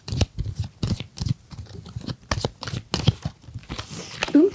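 Playing cards being shuffled at a tabletop game of Witches' Quarrel, a run of quick papery riffles and crinkly snaps in regular bursts, close and fairly loud, with no talk over them.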